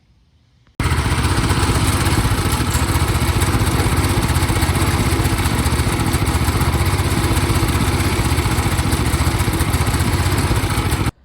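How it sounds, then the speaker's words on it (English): A Tote Gote mini bike small engine idles after an ignition and belt adjustment, starting abruptly and holding a loud, steady, slightly rough chugging drone close by for about ten seconds before cutting off, with no talk. "See if it will sit here and idle and not spin this belt."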